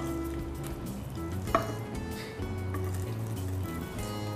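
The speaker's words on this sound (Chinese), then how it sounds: "我们把生姜下去爆一下" Ginger frying in hot oil in a wok for scallion beef, a quiet steady sizzle with a brief stirring clatter partway through.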